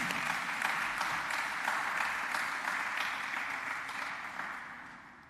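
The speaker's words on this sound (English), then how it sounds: "So let's give them an applause this morning." An audience at a morning awards ceremony for mathematics teachers applauds, a dense, steady wash of many hands clapping that slowly fades toward the end.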